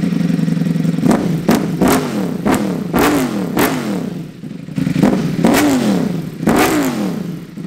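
Ducati Panigale V4 fitted with an Akrapovic full titanium exhaust with the baffles removed, revving hard close up in a series of sharp, rising blips over a loud, rumbling idle.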